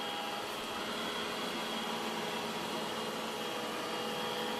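Puppyoo robot vacuum cleaner running in a home, a steady close whirring hiss with a faint motor whine, continuous and even throughout, without talk.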